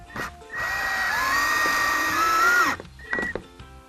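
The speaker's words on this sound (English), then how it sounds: "I'm going to put a screw in" A power drill drives a screw into a wooden desk caddy in one sustained whine of about two seconds that rises slightly in pitch. Short bursts of the motor come just before and after it, all close by.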